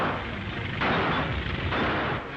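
Gunfire in an old serial film, set in a swamp: muffled, booming shots swell out of a noisy, hissing old soundtrack, with two or three heavy bursts in quick succession.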